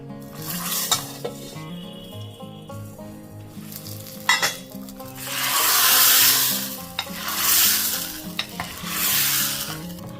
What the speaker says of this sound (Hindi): थोड़ी सी हींग डाली है और लगा रही हूँ छौंका